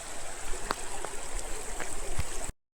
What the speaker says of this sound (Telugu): నీళ్ళు అయితే పారుతున్నాయి. పై కొండల నుంచి కొట్టుకొని వస్తున్నాయి